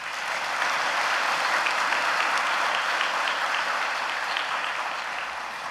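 Steady, dense applause from a church congregation after a sermon, loud and even throughout with no voices standing out.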